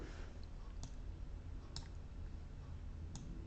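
Mouse clicks while working in SmartScore 64 NE Pro music notation software, three sharp, faint clicks spaced about a second apart over a steady low room hum.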